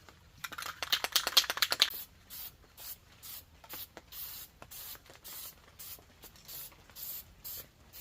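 Rapid bursts of spray from an aerosol can of barbecue paint, used on a vehicle, fire in quick succession and then settle into short, evenly spaced hissing puffs, close and fairly quiet.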